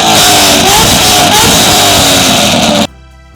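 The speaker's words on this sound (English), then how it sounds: "the super loud cars with antisocial amounts of exhaust noise are rare" A loud car with a very noisy exhaust revs hard on a city street in Taishan, China, giving a close, roaring burst that holds for a few seconds and then cuts off abruptly.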